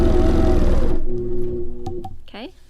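An APQS longarm quilting machine stitches along a ruler for a wide arch border, a loud steady mechanical whir for about a second that then fades into quieter machine hum and faint handling noises.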